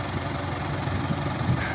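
Tractor engine running steadily while bales are loaded onto a trailer in a field, a close, continuous rumbling drone with slight vibration and no voices.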